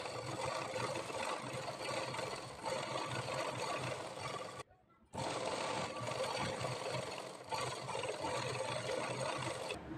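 A sewing machine runs in long continuous stitching bursts on a blouse back neck with piping, steady and close, with one brief pause midway.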